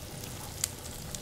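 Butternut squash sizzling in a pan over a high flame, a steady close crackling hiss with a couple of brief louder pops, no voices.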